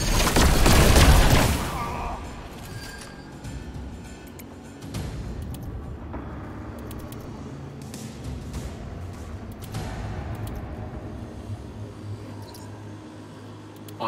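Gatling barrage gunfire from the Necromunda: Underhive Wars video game, heard as a loud, dense burst of booming shots over roughly two seconds, followed by quieter game ambience with scattered faint pops.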